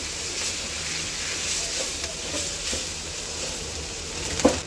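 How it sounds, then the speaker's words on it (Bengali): Broken rice frying in soybean oil in a pan, a steady hissing sizzle close up with a few faint stirring clinks near the end. "এবার এটাকে আমি একটু ভাজা ভাজা করে নেব।"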